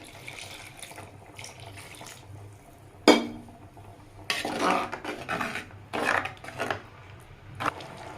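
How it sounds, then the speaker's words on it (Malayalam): Second coconut milk is poured into a pot of Kerala-style banana pradhaman, giving soft, irregular splashing and liquid pouring bursts with a few scraping stirs, close and fairly quiet, without talk. "നമുക്കിതിലോട്ട് 2-ാം പാൽ ഒഴിച്ചു കൊടുക്കാം."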